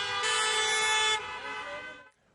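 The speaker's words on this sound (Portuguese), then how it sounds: "Paulo Futre, na semana passada tu não eras nada crente nestas buzinas" Loud, sustained car horn blast from football fans protesting outside Benfica, holding steady for about a second before tapering off, with other horns layered beneath and the sound cutting out near the end.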